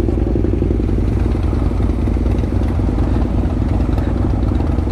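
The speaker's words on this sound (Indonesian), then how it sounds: "Bang Mirdal bawa motor kocak anjir" Motorcycle engine on a ride along city roads, a loud, steady mid-pitched drone with rattling clatter and rushing air, continuous throughout with no talk.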